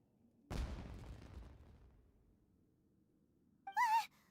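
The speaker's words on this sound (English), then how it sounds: "It sounded like fireworks." In Genshin Impact, a single fireworks explosion booms loudly and decays over about a second and a half. After a quiet stretch, a brief high warbling tone follows near the end, with no talking.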